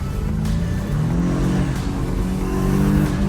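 A decade-old turbocharged BMW engine revs under load with a rising whine of the turbo spooling up, loud and close, heard from inside the car through slightly open windows.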